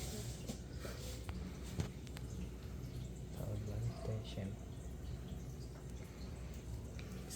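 A Brastemp 8-place dishwasher fills with water, a steady low rushing and gurgling with occasional drips and clicks, fairly faint and continuous throughout.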